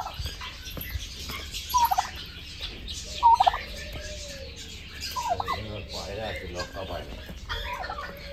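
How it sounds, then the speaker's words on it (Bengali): Turkeys gobble in bursts at a rural resort farm near Jhargram, the rapid warbling calls rising over a steady background hum, with a few sharper bursts and some faint bird and animal noises mixed in. "টার্কিটা এই লাস্টে একদম টার্কিটা আছে।"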